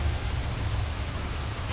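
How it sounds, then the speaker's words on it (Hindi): Dense, steady rain hiss with a low rumbling undertone, continuous and fairly close, with no voices. "ये अचानक बारिश कहाँ से आ गई?"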